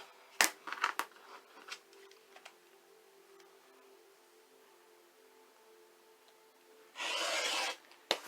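Scissors cut through fabric for a sewing project: a cluster of short, sharp snips near the start, then one longer, louder continuous cut near the end, with quiet gaps between.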